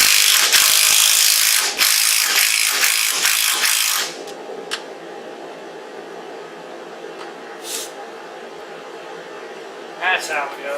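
Rapid ratchet clicks while tightening a bolt on a Jeep YJ intermediate steering shaft, loud and close for about four seconds, followed by near quiet with a few light knocks.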